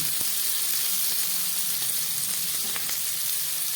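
Potatoes and flat beans fry in a pan with a steady, moderate sizzle and crackle, and a few soft clicks from the pan.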